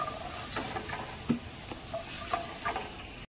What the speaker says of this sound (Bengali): এবার আলুটাকে ভাজছি।